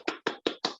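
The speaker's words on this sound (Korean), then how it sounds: "박수로 맞아주시기 바랍니다" Clapping to welcome a speaker at a policy forum, heard as a few crisp, close handclaps at an even, steady rhythm with short silences between them.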